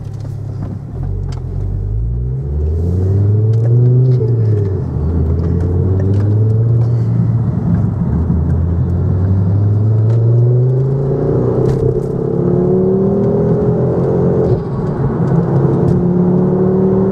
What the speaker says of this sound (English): Mongoose sports exhaust, which I'm sure you can hear.